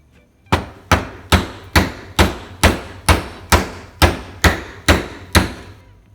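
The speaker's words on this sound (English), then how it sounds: "It's going to take some tapping for my hammer." A hammer taps a knife handle down onto the blade, about a dozen sharp, loud wooden knocks in a steady rhythm close by, with no talking.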